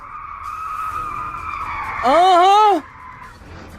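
A speeding car zigzagging on the road, engine droning steadily before a loud, wavering tire squeal cuts in for under a second, then the engine continues; a voice murmurs briefly over it.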